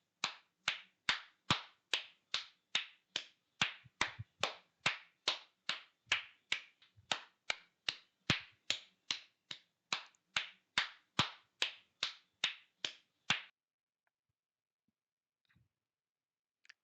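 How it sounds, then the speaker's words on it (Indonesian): A single pair of hands claps in a slow, steady rhythm, about thirty sharp, close claps spaced roughly half a second apart, then stopping and leaving near silence. "Suara tepuk tangan."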